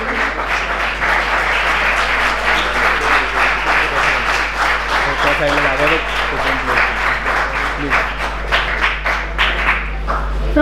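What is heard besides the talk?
audience round of applause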